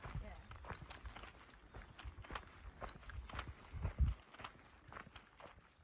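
Hooves clip-clop steadily at a walking pace along a trail during a long-distance thru-hike, heard fairly close beneath ongoing conversation between people.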